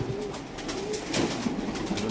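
Racer pigeons coo in a loft, soft repeated throaty coos overlapping close by against a busy background.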